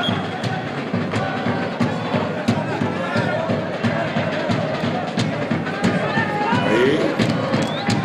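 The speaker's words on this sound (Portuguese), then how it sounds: "olha só a torcida" Football fans in a stadium at a local match, a dense crowd murmur with scattered shouts and whistles, steady throughout with voices mixed in.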